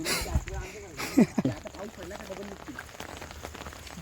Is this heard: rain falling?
yes